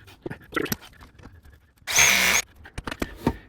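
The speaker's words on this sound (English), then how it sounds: "we'll just drill a new hole for the" A power drill whirs loudly for about half a second while drilling a hole for a tankless water heater elbow, amid scattered knocks and clatter of handling tools nearby.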